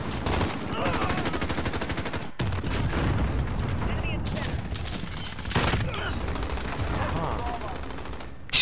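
Rapid automatic fire from a FAR rifle in a Call of Duty match, close and loud, in long rattling bursts broken by a brief pause and a sharper crack, over game noise.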